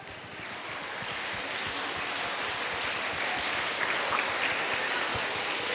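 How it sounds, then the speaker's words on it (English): Audience at a school Independence Day celebration, nursery through upper grades, applauding performers: a steady wash of many hands clapping, building slightly and sustained at a distance with no talk over it. "A big round of applause for our vibrant performers"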